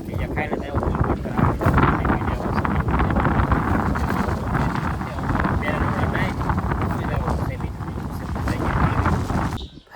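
Strong wind buffets the microphone for the whole stretch, a steady loud rushing roar with gusty swells on an open tractor ride, with a voice faintly mixed in.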